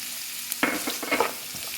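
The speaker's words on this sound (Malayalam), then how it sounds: "പച്ചമുളക് അരിഞ്ഞ് വെച്ചത് അതുകൂടി അതിട്ടൊന്ന് നന്നായിട്ടൊന്ന് ചെറുതായൊന്ന് വഴറ്റിയതിന് ശേഷം വഴണ്ട് വരട്ടെ" Chopped green chillies sautéing in oil in a pan for a Ramadan dish, a steady close sizzle with a few quick stirring scrapes and clinks near the middle, no talking.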